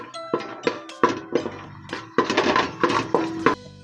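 Cinnamon, cloves and cardamom stirred in a pan for chicken curry: a close run of metallic clinks and scrapes from a spoon against the pan, steady and unaccompanied by talk.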